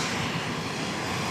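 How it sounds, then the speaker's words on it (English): A Ryanair Boeing 737-800 inbound to Edinburgh from Budapest produces a brief, dense, steady engine roar, loud and continuous throughout the short stretch. "Next inbound, Ryanair from Budapest,"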